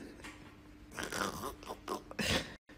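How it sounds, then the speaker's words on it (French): Potato chips crunched close to the mouth, several crisp bites and chewing bursts after a quiet start, fairly faint and ending abruptly. "C'est l'heure des croustilles."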